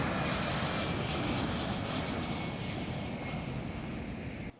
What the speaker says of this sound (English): His private plane departed the Cheddi Jagan International Airport at approximately 9:45